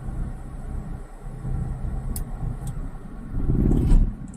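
A learner's car creeping forward as the clutch is let out, a steady low engine rumble from inside the cabin that swells briefly toward the end.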